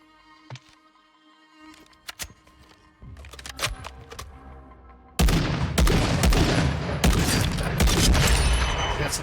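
Rapid rifle fire from a Carrick bullpup sniper rifle in a shooter video game, starting as sparse scattered shots and building into dense, loud, overlapping gunfire with booming reports.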